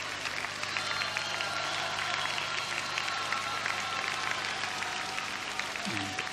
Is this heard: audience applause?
yes